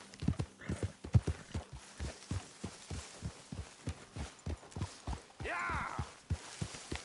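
Horse hooves clip-clop at a steady walking pace in the Red Dead Redemption 2 video game, close and distinct, with a brief whinny-like sound partway through.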